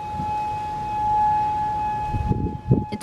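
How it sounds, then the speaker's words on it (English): A steady, wailing tornado warning siren test holds one continuous tone throughout, with a few thumps and handling noises near the end. "That's the tornado siren going off."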